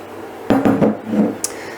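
A utensil stirs a chickpea flour mixture into boiling water in a pot, giving a few quick scraping clinks against the pot followed by a softer swish and a small tap, close and brief.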